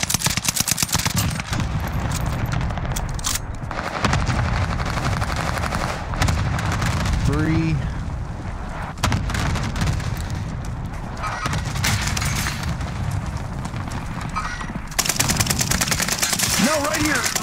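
Rapid automatic gunfire in Call of Duty Warzone on Fortune's Keep, dense bursts running almost continuously through the match with game effects, loud and close.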